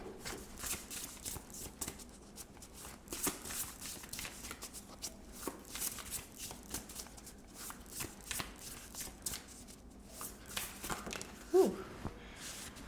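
Tarot cards being shuffled by hand in a steady series of soft, papery riffles and slaps, close and fairly quiet, with no talking.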